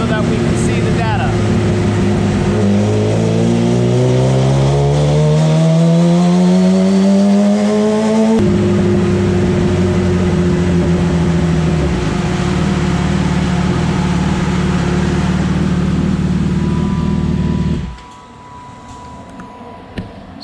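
A 2016 Suzuki GSX-R1000 sport bike roaring on a dyno during a partial-throttle pull at roughly 20% throttle, loud and close, with the engine note climbing steadily, dipping briefly, then rising again before cutting off to idle near the end.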